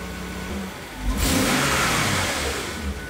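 A BMW 750iL V12 engine, left ten years in a field, idles low, then revs sharply to a loud sustained roar before easing back down, close by.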